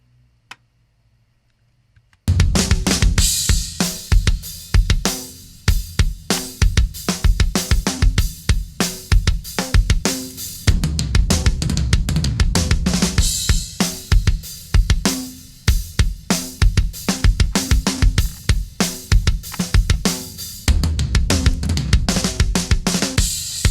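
Overhead drum submix from a metal mix, with dense, driving cymbals and kit hits under light low-end cut, starting after a brief near-silent pause and continuing loud and busy throughout.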